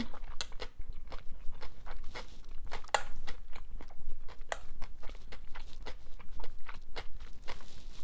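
Someone eats a vegetarian meal of whole cucumber, eggs and salad, with crisp crunchy bites and steady close chewing throughout and no talking.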